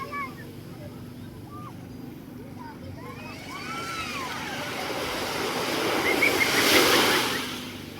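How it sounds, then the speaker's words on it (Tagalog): Strong ocean surf at a beach swells and crashes into a loud, hissing wash of breaking waves amid steady wind, with faint chirps early on. "Lakas ang alon ngayon ah."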